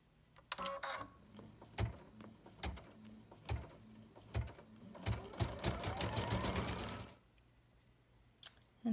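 An embroidery machine stitches an applique design, first with separate spaced mechanical thumps, then a faster continuous run of rhythmic stitching for a couple of seconds before stopping, fairly quiet and close.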